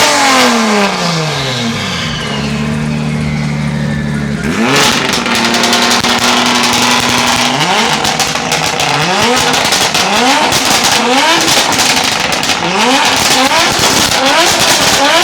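A Formula 1-style race car at a seaside festival in Klaipėda fires up and revs loudly and close by, its engine climbing and dropping in repeated sharp bursts of throttle with no talk over it.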